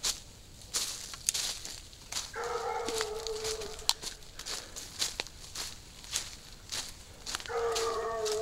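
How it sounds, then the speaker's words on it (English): A Bluetick coonhound bays on a trail during tracking, with drawn-out howling calls that rise twice and hold, heard at middle distance among crunching footsteps and rustling brush. "it's the first time he's barked on trail"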